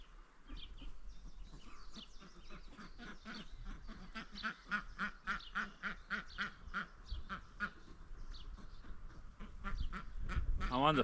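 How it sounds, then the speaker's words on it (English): Penned ducks quack in rapid, repeated nasal calls, near and fairly loud, building into a noisy burst at the end, with a person talking among them. "The ducks are mad keen to get out."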